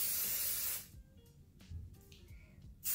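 Hairspray bursts from an aerosol can onto hair in two close, loud hissing sprays, one at the start and one at the end, separated by a quieter gap with faint handling sounds.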